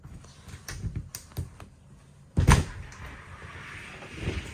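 A few light taps and clicks, then a brief louder knock and slide as a shower door in a 2024 Auto-Trail Frontier Delaware motorhome is pushed open inwards, followed by a soft settling rattle.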